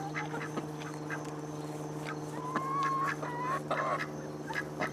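Ducks quack in short scattered calls while feeding on watermelon beside chickens, faint and somewhat distant over a steady low hum.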